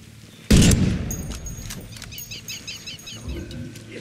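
Gunfire in the video game Ghost Recon Wildlands: a single sharp, loud shot cracks out and rings into a decaying echo, followed by softer scattered in-game noises.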